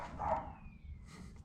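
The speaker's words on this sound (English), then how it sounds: "Little dogs. They're so aggressive, man." A small dog gives a short bark, moderately close, followed by a faint whine, over a quiet low background rumble.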